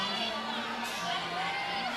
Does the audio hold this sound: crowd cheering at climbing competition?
yes